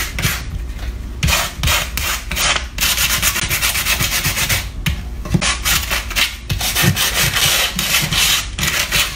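Hand sanding of a chalk-painted wooden table, a continuous rough scratchy rubbing in quick back-and-forth strokes, close and loud with no voices.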